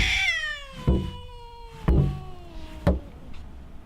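A cat just outside a door gives a long drawn-out meow, then three shorter falling meows, each starting with a sharp thump, close and fairly loud.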